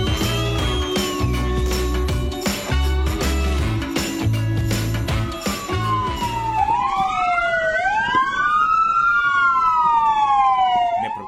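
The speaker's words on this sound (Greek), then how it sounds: "όλα τα πυροσβεστικά οχήματα στο σταθμό της υπηρεσίας ήχησαν τις σιρήνες τους" Several fire engine sirens wail together at a fire station on New Year's, their pitches sweeping up and down and overlapping, with a deep horn-like blare underneath at first.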